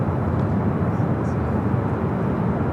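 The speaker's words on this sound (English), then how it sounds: "That 777 now short final for 2-4 right" Boeing 777 airliner on short final at Los Angeles, a continuous low jet rumble at steady loudness with faint higher chirps, heard from a distance.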